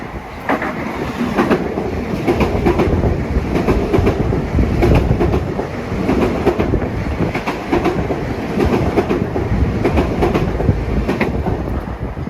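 Long Island Rail Road train 660, bound from New York to Port Jefferson, pulls into Woodside station at evening rush with a steady loud rumble and rhythmic wheel clatter filling the whole stretch, up close and unbroken.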